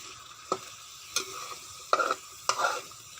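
Chili paste being stir-fried in a pan, with shrimp paste and salt in the mix: faint steady sizzling broken by four sharp scrapes and stirs of the spatula spaced out over a few seconds, with no talking.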